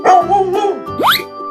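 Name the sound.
dog barking in animal slide video game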